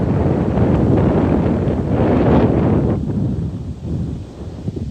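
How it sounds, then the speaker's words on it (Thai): Strong gusting wind buffets the microphone in loud, roaring surges. It eases and thins toward the end, and no one speaks. "พี่ลมกระโชกแรง เลย"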